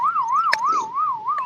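A wailing siren rises and falls in steady cycles, loud and close, with a brief sharp click partway through.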